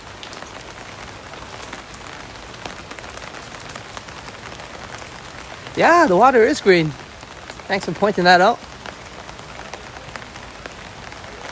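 Steady rain pattering on surfaces along a walk from Boat Lagoon to Royal Phuket Marina in Phuket, Thailand, a continuous even hiss with someone talking briefly partway through.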